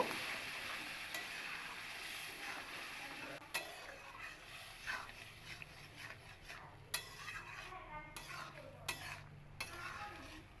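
Boiled tarka dal is mixed into spices in a pan for a vegetarian Bengali tarka. A quiet, close stirring with intermittent spoon scrapes and light clinks sits over a faint background sizzle.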